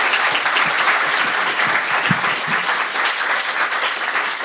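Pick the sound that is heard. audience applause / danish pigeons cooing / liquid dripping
audience applause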